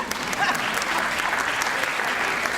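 Audience applause at a Christmas handbell concert, a dense, steady burst of many hands clapping that fills the room throughout, with some talk mixed in.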